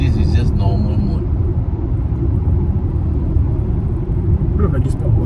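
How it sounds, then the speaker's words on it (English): Inside a Volkswagen Touareg cruising in normal mode, a steady low road rumble and engine drone fills the cabin while people talk over it. "So the car is very stable at all speeds, you know."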